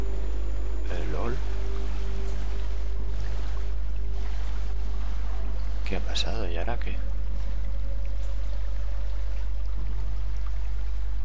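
Steady flowing water rushes continuously in a SOMA game environment, a broad wash of sound that runs the whole time while someone speaks briefly over it twice.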